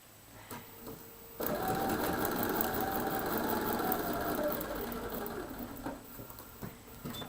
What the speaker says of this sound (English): take this back over to the sewing machine